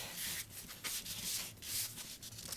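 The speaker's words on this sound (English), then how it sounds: "Just roll it on the table to get out any of the creases" Rolled paper for a can shell casing is rubbed back and forth across a tabletop, producing close, dense papery scuffing in uneven strokes with no talking.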